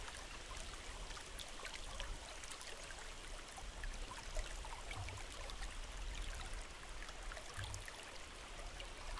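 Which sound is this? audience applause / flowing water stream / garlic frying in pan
flowing water stream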